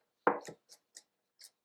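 Knife rocked on a cutting board to mince food, giving one heavier chopping thud followed by three light, crisp taps spaced out, close and clear with nothing else heard.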